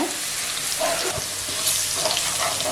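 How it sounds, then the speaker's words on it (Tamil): Garlic sautés in oil over low heat, a soft continuous sizzle and crackle at moderate level with a few faint stirring touches, close by and with no voices. "பூண்டு இந்த அளவுக்கு வதங்கினது போதும்"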